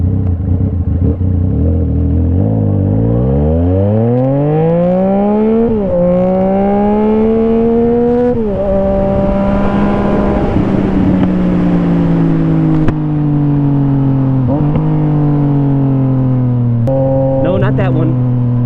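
A 2018 Yamaha XSR900 motorcycle with an SC Project exhaust accelerates hard, its engine note climbing through several gears with rising pitch and drops at each shift, loud and close.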